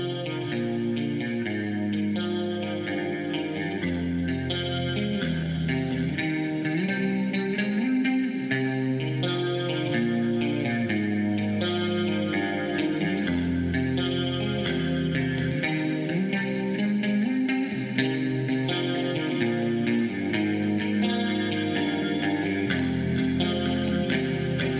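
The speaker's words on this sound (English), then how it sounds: "Let's check the guitar again." An electric guitar plays a steady melodic riff through a compressor, with sustained, evenly levelled notes and chords that ring on continuously with no talking.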